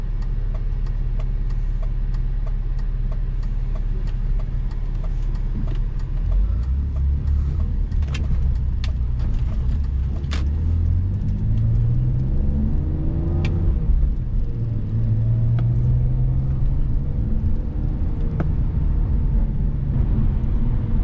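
A BMW E46 coupe engine, short on low-end power and in need of Vanos seals, drives and revs from inside the cabin, a loud continuous rumble with engine pitch rising and falling through several climbs, with no talking.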